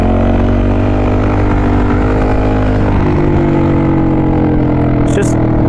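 A supermoto motorcycle engine idles low and steady, a close, loud droning hum with rich harmonics and a slight wobble partway through.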